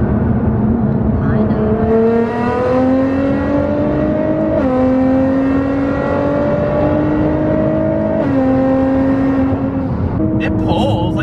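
A stance car accelerates hard on the road from inside the cabin, engine tone climbing steadily through several gears with distinct shift drops, loud and close, with people talking over it.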